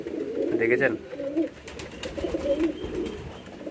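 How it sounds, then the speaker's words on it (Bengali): A male pigeon coos repeatedly to a female, soft low throaty calls close by in two or three bursts, while someone talks over them. "আমাদের নরটি চলে আসছে আর ডাক দিচ্ছে মাদির সাথে"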